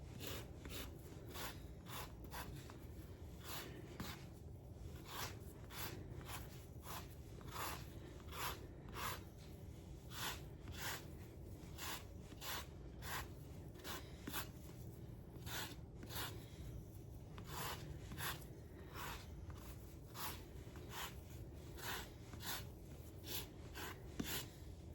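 Orange zest being grated by hand for cranberry orange muffins, a quiet, regular series of rasping strokes repeating steadily throughout at low volume, with no speech.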